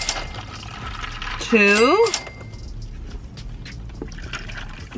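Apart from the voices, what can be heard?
drink being poured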